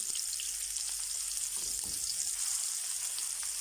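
Chopped onion fries in hot oil for chana daal, a steady, dense hiss of sizzling with no break, heard close and moderately loud.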